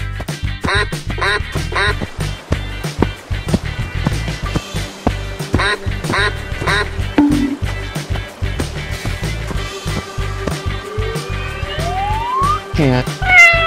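Cartoon-style duck quacks repeat in quick bursts over a steady backing of music and sound effects, loud and close, with no clear voice over them.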